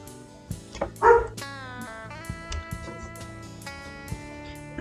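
A pet dog lets out one short bark, close and sudden, over steady soft background music.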